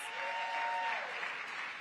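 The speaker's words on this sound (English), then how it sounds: "Give him a big round of applause" Sustained applause from a conference audience at a National League of Cities gathering, dense and steady across the whole stretch with no break.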